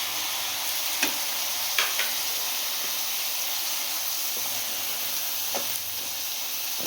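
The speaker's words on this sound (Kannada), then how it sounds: "ಟೊಮೊಟೊ ಕೂಡ 1-2 ನಿಮಿಷ ಸಾಫ್ಟ್ ಆಗೋವರೆಗೂ ಫ್ರೈ ಮಾಡ್ಕೊಳ್ತೀನಿ" Onion and tomato sizzle steadily in a hot pan for a fenugreek leaf methi gravy, a soft continuous frying hiss with a few light clicks of stirring, close and alone with no voices.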